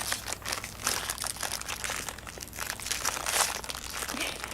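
Plastic blind bag packaging for a Blizzard Cute But Deadly collectible figure crinkles and crunches continuously as it is worked open by hand, a close, busy rustle with no talking.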